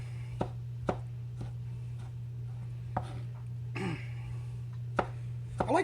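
A knife chops tomato on a cutting board for guacamole, sounding as sharp, separate knocks at an uneven pace against a steady low electrical hum, close and fairly quiet.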